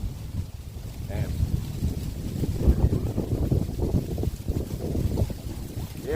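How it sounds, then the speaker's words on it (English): Wind gusting outdoors along the asphalt trail in Pennypack Park, a loud low rumbling buffet over the microphone with someone talking under it. "Now the wind picks up."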